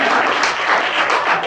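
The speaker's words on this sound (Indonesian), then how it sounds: "Tepuk tangan yang meriah, Pak Hendra." A church congregation in New York applauds loudly and steadily after a testimony, dense clapping filling the room without pause for the whole moment.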